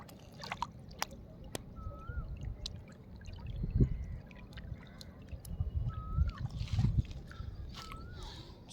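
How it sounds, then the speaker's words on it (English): Water laps and sloshes gently at the edge of a pond in the early morning, soft irregular splashes close by, with birds chirping faintly in the background. "the sound of the waves which you will listen"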